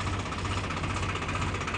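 A tractor engine runs steadily with a loud, continuous rough rumble and rattling vibration, close to the microphone, with no voices over it.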